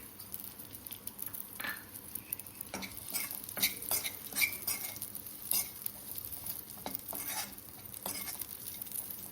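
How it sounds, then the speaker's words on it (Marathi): Raisins frying in a spoonful of ghee over a low flame, a quiet crackling patter with repeated spoon scrapes and stirring taps, close and gentle. "हे मनुका देखील आपल्याला परतून घ्यायचे तुपात"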